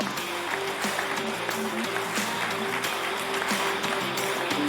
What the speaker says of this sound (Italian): un applauso alla pallanuoto